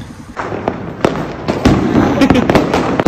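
Diwali firecrackers in Amritsar burst in a rapid, irregular string of loud, sharp bangs and crackles, some close and some farther off, with voices faintly underneath.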